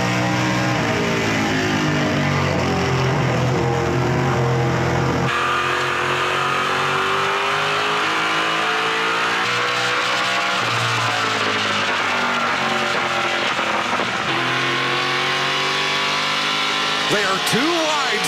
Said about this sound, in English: as we ride on board the Castrol Edge Dodge